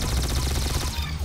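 Rapid burst of weapon fire in the Roblox game Arsenal, a dense crackling volley of shots lasting about a second, loud and continuous before tapering off.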